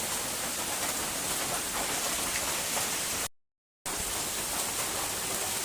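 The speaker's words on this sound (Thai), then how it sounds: "ก็เป็นบรรยากาศ บรรยากาศที่เรานอน ฟังเสียงฝนตกครับ" Steady rain falls outdoors at night around a hammock camp, a dense even hiss of drops on surfaces with no voices, broken by a brief total dropout of about half a second before the downpour resumes.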